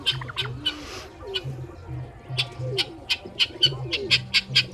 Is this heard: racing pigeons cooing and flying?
yes